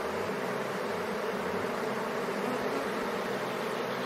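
Steady, dense buzzing hum of honeybee fanners ventilating a crowded hive in May, continuous and close, with no voices.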